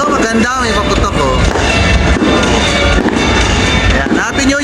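Dense crackling bursts of firecrackers pop continuously and loudly at a New Year celebration, with a busy background of voices and celebration.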